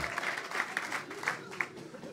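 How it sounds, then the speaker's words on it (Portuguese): A live comedy concert audience in Portugal claps, fairly quiet applause with distinct individual hand claps popping out over a soft crowd murmur. "Salve palmas ao meu amigo Xuxa, caralho"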